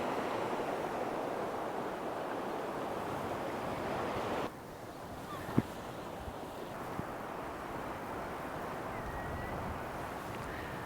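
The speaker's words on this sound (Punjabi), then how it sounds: "ਰੁੱਖੇ ਜੇ ਪੱਥਰ ਹੈ ਛੱਲਾ ਵੱਜੀ ਜਾਂਦੀਆਂ" Sea waves crashing on rocks along the Newfoundland coast at the Skerwink Trail, a steady wash of surf and wind noise, dipping briefly midway before building again.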